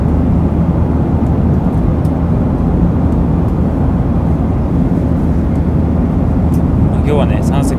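Steady, loud airplane cabin roar fills a Batik Air flight nearing landing, a dense broadband engine and air rush that holds constant, with faint chimes or clicks near the end.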